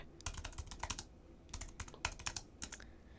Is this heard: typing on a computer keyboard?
yes